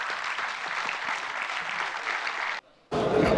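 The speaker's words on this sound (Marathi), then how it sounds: "जोरदार टाळ्या वाजल्या पाहिजेत." Audience at a smart money seminar bursts into sustained, dense applause that holds steady for over two seconds, then briefly cuts out before resuming loud clapping.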